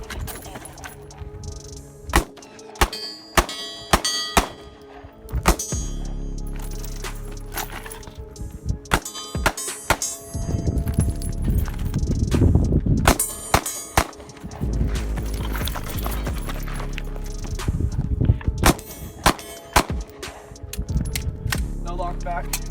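A rapid series of loud, sharp gunshots rings out during a pistol course of fire with Shield Arms S15 magazines fitted with new springs, spaced in bursts over several seconds, with voices speaking between strings of fire.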